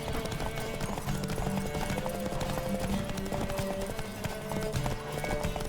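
Rapid hoofbeats of a galloping horse in The Witcher 3 drum on without a break, loud and close, layered over busy game music and ambience.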